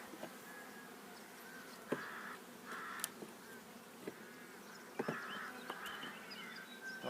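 Steady, faint buzzing of many honeybees around an open horizontal hive during spring colony expansion, with occasional louder passes of individual bees and light knocks in the background.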